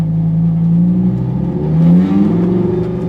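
Engine of a car with a single-clutch automated manual transmission crawling in first gear through bumper-to-bumper traffic, a steady low drone that swells and wavers briefly midway as the clutch slips on and off.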